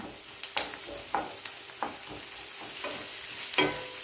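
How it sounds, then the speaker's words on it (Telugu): Ginger garlic paste being stirred into a frying pan of cabbage and potato curry, with a steady low sizzle broken by a series of scraping stirs at irregular intervals, close and moderately loud with no talking. "ఇప్పుడు అల్లం వెల్లుల్లి పేస్ట్ వేసుకోవాలి ఇది కూడా కలుపుకుందాం"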